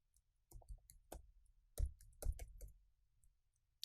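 A passphrase is typed on a computer keyboard in a quiet room: scattered, crisp key clicks in small irregular bursts, close to the microphone and fairly soft, with no voices.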